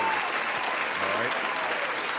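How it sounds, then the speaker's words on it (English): A stadium crowd at a 49ers vs Saints NFL pregame applauds and cheers as a player is announced active, a dense, continuous roar of clapping under a faint announcer's voice. "Round of applause."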